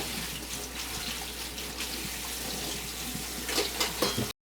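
Cold tap water runs steadily over freshly blanched spinach in a kitchen sink, a soft continuous splashing hiss with a few brighter spatters near the end before it cuts off.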